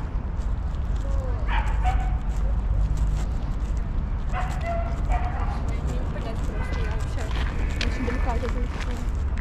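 Dogs barking in a courtyard in Yerevan, a few yips and barks from some distance over steady outdoor noise, with people talking.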